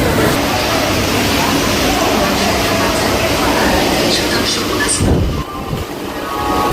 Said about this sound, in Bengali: চলুন এই মুহূর্তে ট্রেনে উঠি